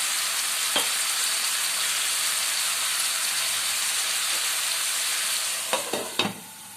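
Chicken with spices fries in a pan with a loud, continuous sizzle and hiss that holds steady throughout, then a few clanks of stirring near the end as the sizzle eases slightly, with no talking.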